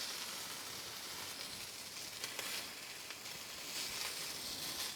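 Filet steak searing in a hot pan, a steady soft hiss and crackle of fat, fairly faint and continuous with no voices.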